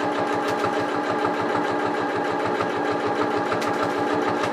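A sewing machine runs steadily at close range while stitching a Humphrey soft toy. Its needle makes a rapid, even mechanical clatter with a continuous motor hum underneath.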